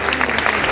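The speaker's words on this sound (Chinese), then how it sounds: "掌声送俾佢哋" A crowd applauds a magic act, steady dense clapping at close range for a brief moment, with no talk.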